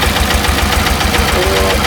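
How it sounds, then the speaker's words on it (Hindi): A diesel engine drives a 3-cylinder compressor, running loud and steady with a rapid knocking pulse and a constant mechanical rumble, close up. "ये हमारा इंजन अब रनिंग में है"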